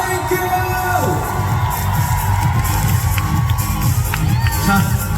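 A packed K-pop concert crowd at a show roars and cheers continuously, with shrill shouts and whoops riding over a dense, loud wall of audience noise.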